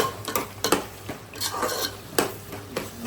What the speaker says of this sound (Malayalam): ഇളക്കി കൊടുക്കുക.